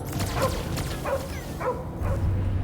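Cosmo the dog barking in the Guardians of the Galaxy video game, several spaced barks over a dense, loud rumbling game soundscape.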